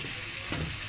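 Tomato hits hot oil in a pan with a steady broadband sizzle and a brief splashy flare in the middle, brief and close.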